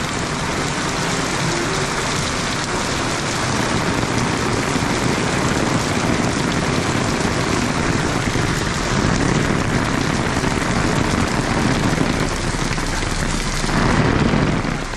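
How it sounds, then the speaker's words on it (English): Heavy monsoon rain pours down in Penang, Malaysia, and someone is out under an umbrella. The downpour is a loud, unbroken hiss that lasts the whole time, with no voices. "Absolute monsoon."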